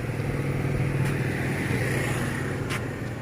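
A Suzuki GD110 motorcycle engine runs at a steady idle, a close, continuous low putter with a faint click or two, and no voices.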